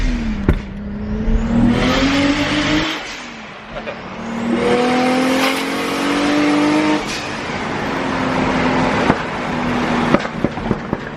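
A JDM drift car street drifting in Germany, its engine revving hard in rising and falling sweeps, punctuated by sharp, loud exhaust pops and bangs like gunshots, close and dominant throughout.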